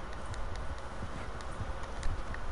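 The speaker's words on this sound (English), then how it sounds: "I'm in the snow with my horse" Horse hooves plodding through snow in the video game Red Dead Redemption 2, a steady soft clip-clop rhythm close by over a low ambient bed, with no talking.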